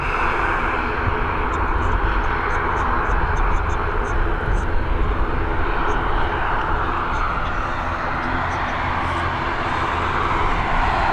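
A nine-year-old Aer Lingus jet at Dublin Airport gives a loud, steady engine roar that fills the whole stretch without a break, with faint voices underneath.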